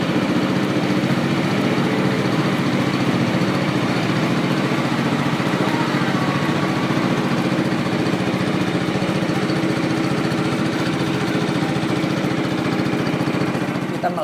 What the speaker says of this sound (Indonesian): pakai mesin speedboat gitu, tapi bukan speedboat yang kenceng ya